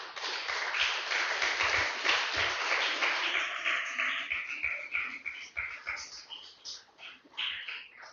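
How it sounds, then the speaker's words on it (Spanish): A church congregation applauding during a Spanish-language sermon, a broad wash of clapping that starts dense and loosens into uneven, tapering claps toward the end. "Denle un fuerte aplauso al Señor, hermano."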